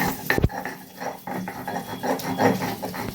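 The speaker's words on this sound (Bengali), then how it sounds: "এই ডাঁটিগুলো সুন্দর এতে বেটে নেবো" Taro stalks being ground into paste on a grinding stone, rough scraping and rubbing strokes in an uneven rhythm, close and fairly loud, with one sharp knock near the start.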